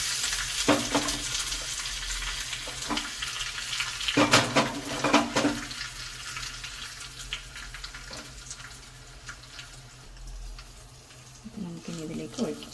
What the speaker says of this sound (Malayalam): ഇപ്പോൾ കടുക് നന്നായി പൊട്ടിയിട്ടുണ്ട്. അതിലേക്ക് കുറച്ച് ഉണക്കമുളകും കറിവേപ്പിലയും.